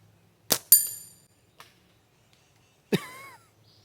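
A Cleaver PRO slingshot fires with a sharp snap, then a bright metallic ping as the shot hits a small target, a faint tap follows, then another clinking impact with a ringing tone, all in quiet surroundings.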